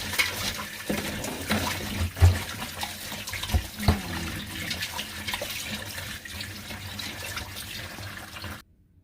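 Filtered water poured into a Thai-style pickling brine for fermented spider-flower greens, a steady splashing stream running close and fairly loud for most of the clip before cutting off, with a few heavier splashes along the way.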